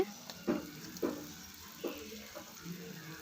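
Chopped bottle gourd goes into a pan of softened onion and tomato with oil, giving soft sizzling and a few sharp stirring scrapes against quiet background, with faint talk.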